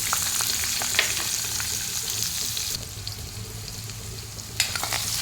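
Onion sizzles loudly in a pan of hot oil with garlic and asafoetida while cooking methi bhaji, a steady close frying hiss with a few stirring clinks and a sharp surge as the onion goes in.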